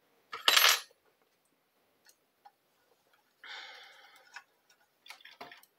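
A small metal throat plate is set into place on an overlock sewing machine during a blade change, giving a sharp metallic clatter, then a longer rattling scrape and a few light clicks, close and with quiet pauses between.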